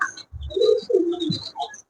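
Close pigeons coo softly, with a few low rolling coos and brief chirps in a short burst, and no talking nearby.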